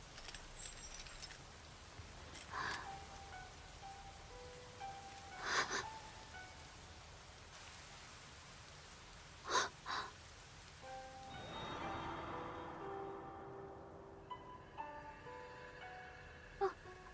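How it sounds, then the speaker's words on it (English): Soft, steady rain in the video game Fate/Samurai Remnant falls with scattered louder drips and patters, fairly quiet throughout, with a brief swell of muffled noise partway through. "What a terrible day for rain."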